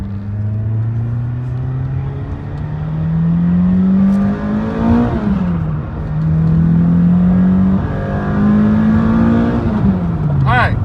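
Toyota Corolla XRS with a new Exedy clutch accelerating hard, its engine rising in pitch through two full pulls with brief dips at the gear shifts, loud and close from inside the car.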